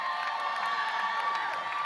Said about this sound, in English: how about a cheer for the faculty who helped you to get here?